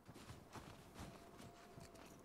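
Horse hooves clopping in The Last of Us Part II, a steady run of soft thuds at walking pace under game ambience, mid-distance and moderately loud.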